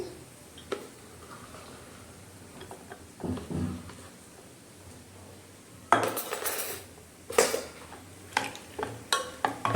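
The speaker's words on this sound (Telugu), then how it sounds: "ఇందులోకి మనం కట్ చేసి పెట్టుకున్న ఆనియన్స్ వేసి" Chopped onions go into a pot of buttermilk rasam (majjiga charu), followed by a quiet stretch, then a run of sharp metal spoon scrapes and clinks against the pot, growing louder and more frequent toward the end.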